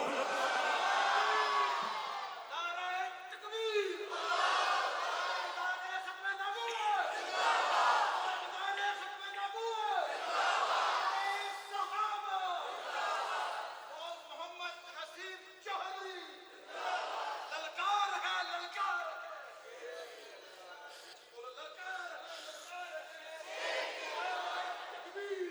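A crowd at a religious gathering chanting Zindabad slogans, rhythmic waves of loud massed voices rising and falling repeatedly, call-and-response style, throughout.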